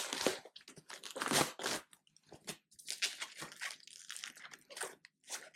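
Plastic packaging around a blitz car spoiler for a 2025 GR Corolla is torn and crinkled open, loud bursts of crackling and ripping in uneven spurts with short pauses between.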